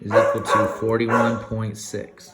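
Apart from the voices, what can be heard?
dog barking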